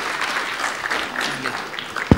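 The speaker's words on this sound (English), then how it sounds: "a big round of applause for them" An audience at a youth leadership forum applauds, a steady wash of clapping throughout, ending with a sharp loud thump.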